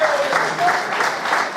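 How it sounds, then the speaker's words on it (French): Audience applause for the winner at a poker camp closing ceremony, a short, steady patter of many hands clapping, fairly loud and close, with a faint voice underneath. "Je vous demande d'applaudir monsieur Benjamin Lou"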